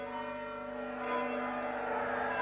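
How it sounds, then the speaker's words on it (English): Church bells ring continuously in a steady wash of overlapping metallic tones, moderately loud and somewhat distant, swelling slightly partway through with no voices present. "they rang the bells until they thought everyone within a radius of 10 miles must be awake"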